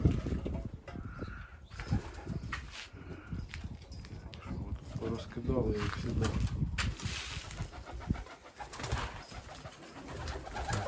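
Pigeons coo and flutter nearby in a busy, echoing old dovecote, with someone talking over the birds and occasional clatter.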